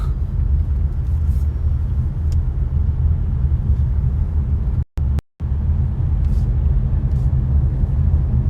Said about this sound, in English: Now it's a driving tour.